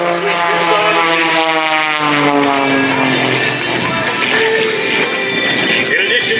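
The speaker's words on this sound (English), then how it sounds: "In addition to flying this beautiful aerobatic airplane" A loud aerobatic airplane engine roars steadily at an airshow, its droning pitch sliding and shifting as it maneuvers overhead, with a crowd or announcer faintly audible beneath.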